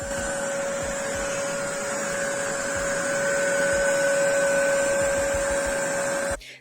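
A Bissell JetScrub Pet upright carpet cleaner runs steadily close by with a loud whining motor hum and a high tonal whistle, then cuts off abruptly at the end.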